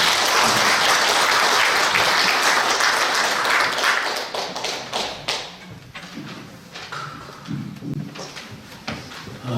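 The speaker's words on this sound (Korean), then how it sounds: "여러분 큰 박수 보내주시기 바랍니다." A lecture audience gives loud, dense applause to welcome a keynote speaker, strong at first and then thinning into scattered, uneven claps and a few thumps as it dies down.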